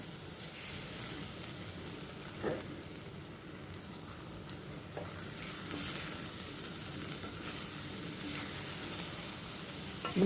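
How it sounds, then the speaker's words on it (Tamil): Eggs for egg bhurji sizzle steadily in a hot pan, with occasional light stirring scrapes and clicks over the continuous frying hiss, and no voices. "லைட்டாக கிளறி விடுங்க, ரொம்ப வேண்டாம்."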